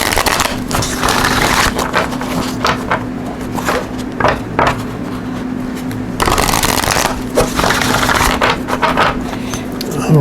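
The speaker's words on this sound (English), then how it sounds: "I'm going to pull a card here from the Numerology deck" Numerology card deck shuffled by hand, a rapid riffling flutter in bursts with short pauses, close and fairly loud, over a faint steady background hum.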